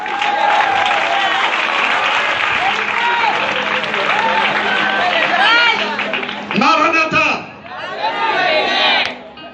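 Church congregation clapping and cheering during a sermon, a dense continuous wave of applause with shouting voices over it, loud and close, dipping briefly near the end before swelling again.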